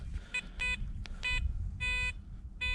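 Several short, tonal electronic beeps sound in an uneven sequence, clear and close, over a low rumbling background.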